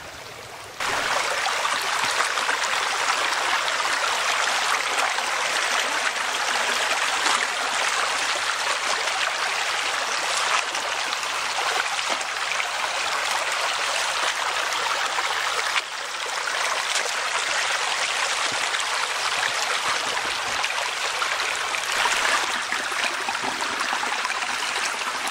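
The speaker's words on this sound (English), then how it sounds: "The stream actually splits off here a little bit." A mountain stream runs steadily near an old coal mining town, its constant close rushing and trickling water unbroken and with no voices.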